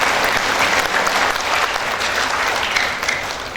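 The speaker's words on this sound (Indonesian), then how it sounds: "Tepuk tangan dengan Stikes Intan Martapura" Steady applause from a crowd at a graduation ceremony in Martapura, Indonesia, sustained for several seconds and fading slightly at the end, with no talking.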